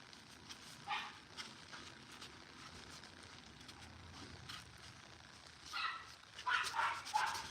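Small dog yipping and barking in the background of a home with children around, scattered bursts that grow louder and more frequent toward the end over a low noisy room bed.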